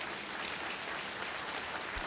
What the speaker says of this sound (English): So let's just give a warm welcome to Jonathan before I get started.